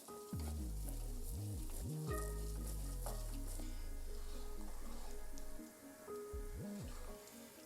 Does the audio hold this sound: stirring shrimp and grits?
yes